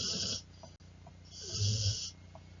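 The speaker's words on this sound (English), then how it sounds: "my dog just continue to sleep and snore" A sleeping dog snores in slow, rhythmic breaths, each loud nasal rasp followed by a quieter wheezy exhale, heard close and alone with no talking.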